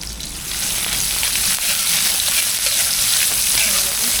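Cleaned dried anchovies fry in hot oil in a loud, steady close-up sizzle, a dense crackling hiss that swells in the first half second and holds without talking.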